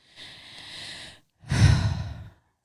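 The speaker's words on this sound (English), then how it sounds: "We're just heavy breathing." Two heavy, drawn-out breaths done for an ASMR bit, a long airy exhale followed after a short pause by a louder, rougher one, close to the microphone with no talking.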